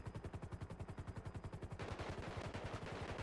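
Rapid automatic gunfire in a roleplay video game: a steady fast stream of shots, rattling close and loud for the whole stretch, thickening into a denser overlapping burst partway through, with no speech.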